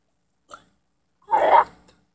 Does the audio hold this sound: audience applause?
no